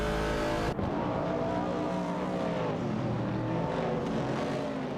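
Classic race cars, a 1968 Pontiac Firebird and a Ford Falcon among them, roar through a racing game with a loud, sustained engine drone, shifting pitch as they rev and jostle, and a sharp cut early on.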